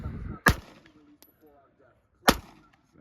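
Two sharp gunshots ring out during outdoor target practice in the desert, spaced about two seconds apart, each a loud broadband crack with a short decay and faint ambience between.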